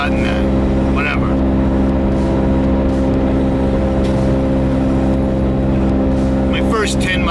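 A truck engine drones loudly and evenly while driving in the rain after sitting cold overnight, a steady low hum with brief voices near the start and end.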